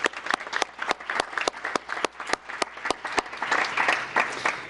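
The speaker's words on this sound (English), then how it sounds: "I think this deserves a nice round of applause for that team." Applause at a town council meeting: a room full of people clapping for several seconds, sharp individual claps standing out near the front over a dense, steady patter that swells slightly toward the end, with no talking.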